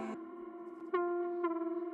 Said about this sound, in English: just playing a very distorted sort of sine wave, a little bit of attack and decay in there as well